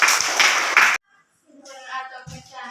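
A classroom of children clap together for about a second, a dense burst of hand claps that stops abruptly, followed by someone speaking.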